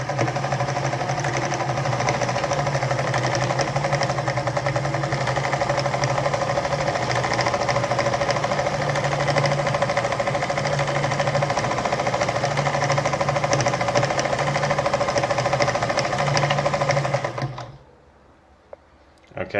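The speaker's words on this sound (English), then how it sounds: "All right, so I'm sewing right now." An Adler 489A sewing machine stitching steadily, its fast mechanical chatter and motor hum running evenly for about seventeen seconds before stopping abruptly into near silence.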